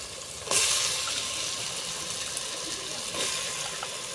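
Brinjal added to a frying tomato gravy for a thoothuvalai dried-fish kuzhambu, giving a loud burst of sizzling that settles into steady frying hiss, with a second surge of sizzle as more goes in, no talking.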